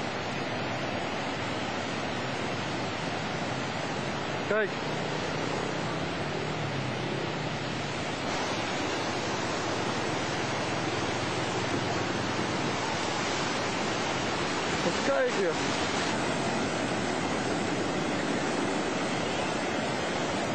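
Tsunami waves of 2004 surge ashore at Krabi, Thailand, as a steady, heavy roar of rushing water and surf that fills the whole stretch, with wind buffeting the microphone and a few brief spoken words.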